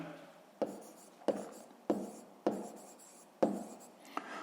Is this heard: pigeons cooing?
no